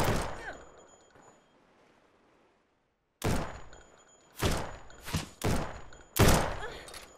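Gunfire in the survival game No One Survived: after a faint opening and near silence, several loud, sharp, close shots come in irregular bursts, each ringing briefly.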